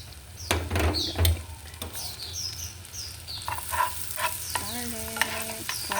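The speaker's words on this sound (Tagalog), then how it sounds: "Fry ang garlic." Garlic fries in melted butter in a pan: a continuous close sizzle with scraping, clattering strokes of stirring and a few short tonal clinks near the end.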